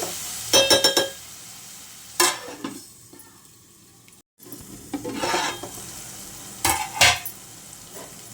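Onions with turmeric and salt frying in a pan, bursts of hissing sizzle and scraping as a spoon stirs and clinks on the metal, with brief quiet gaps between, no speech.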